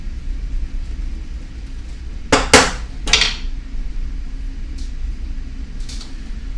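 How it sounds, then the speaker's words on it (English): Metal spoon scraping and knocking against a pot of pasta shells, a few sharp clanks clustered together then a lone tap, close and fairly loud over a steady low kitchen hum. "Always stir your pasta shells."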